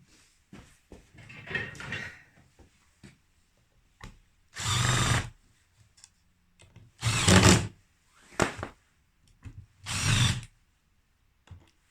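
A power drill drives screws into a wooden farmhouse-style shelf, giving four or five loud whirring bursts of a second or so each, separated by pauses with small handling knocks and clicks nearby.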